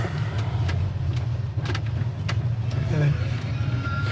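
Engine of a 1965 Ford Mustang coupe running steadily after starting, a low continuous rumble close by under intermittent background voices.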